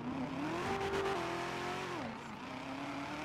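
A loud car engine revs up and holds, then drops and climbs again, a close, droning roar with shifting pitch throughout and no talk.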